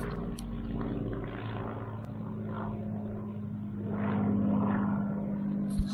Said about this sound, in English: Spitfire hurricane-y sort of sound and look to it